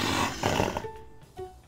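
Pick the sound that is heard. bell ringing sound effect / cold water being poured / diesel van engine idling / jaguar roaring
jaguar roaring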